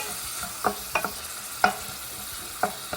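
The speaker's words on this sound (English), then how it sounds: "we're just going to let this simmer" A beef sauce with a shot of wine simmers in a pan over low heat with a faint steady bubbling hiss, and a few light taps of a spoon stirring.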